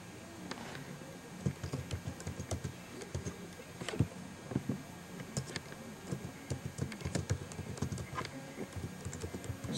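Keys on a Mac computer keyboard are tapped in quick, uneven bursts at close range while a web address is entered, a steady run of light clicks with no talking.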